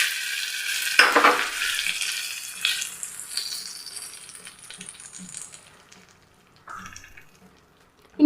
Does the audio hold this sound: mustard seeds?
yes